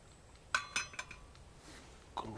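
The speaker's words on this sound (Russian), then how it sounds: "Достаю кружку." A few sharp ceramic clinks and knocks as a mug is lifted out and set against other dishes, close by, then quiet.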